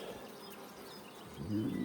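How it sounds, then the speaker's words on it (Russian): Bees buzzing at an apiary hive, a steady close drone of many insects filling the short clip, swelling slightly louder near the end. "Не зли пчел, я без перчаток."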